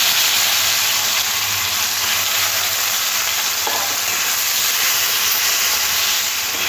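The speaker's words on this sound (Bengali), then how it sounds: "এবার এই তেলের মধ্যে দিয়ে দেব নুন আর হলুদ মাখানো চিংড়ি মাছ।" Prawns coated in salt and turmeric fry in hot oil, a loud, dense, continuous sizzle and hiss that stays steady from start to finish with no voices.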